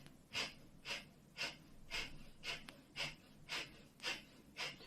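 Rapid forceful exhales during a yoga breathing exercise, about nine sharp close-up puffs of breath at an even steady rhythm, quiet and without any talk.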